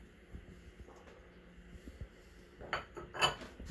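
A spoon stirs dill relish into a casserole mixture in a pan, giving faint scrapes and soft clinks that end in a few sharper metallic taps.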